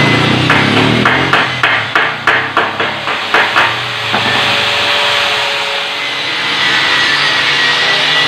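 Welding flux being hammered off welded tubular railings: about a dozen sharp metallic taps in a quick, even rhythm, then a loud, continuous roar of machinery or wind.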